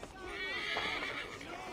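A horse whinnies in a drawn-out, wavering call over a steady background with faint voices, in the video game Assassin's Creed Valhalla.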